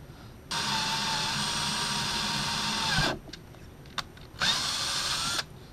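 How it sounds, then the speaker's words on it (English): A power drill whines steadily for a few seconds, stops, then runs again briefly, close and loud, biting into the metal of a lantern. "Let the weight of the drill do all the work."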